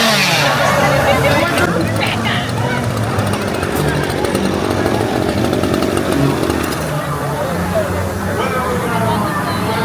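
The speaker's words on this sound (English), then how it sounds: "Don't chop it up with your chainsaw" Chainsaw revving loudly and steadily through a foggy haunted scare zone, its engine snarl carrying over a crowd's busy chatter and footsteps for the whole stretch.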